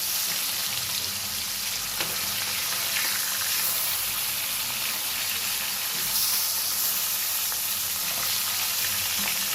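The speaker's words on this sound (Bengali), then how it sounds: "মাছগুলো একটু উল্টা পাল্টে আমি ভেজে নেব।" Rohu fish pieces frying in hot oil in a pan, a continuous loud close sizzle with occasional spatters throughout, no voices.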